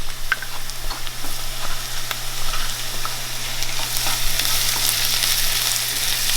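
Garlic and onions fry in a pan, giving a steady crackling sizzle with scattered pops and stirring clicks, growing brighter toward the end, over a constant low hum and with no voices.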